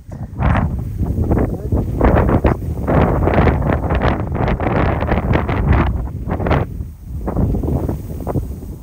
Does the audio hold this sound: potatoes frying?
no